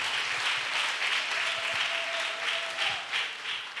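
A church congregation applauds together during a missionary retreat, producing sustained clapping with a faint voice rising briefly beneath it.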